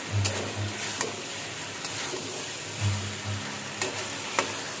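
Kidney beans being sautéed in a pan give a continuous moderate sizzle, with occasional clicks and scrapes of stirring.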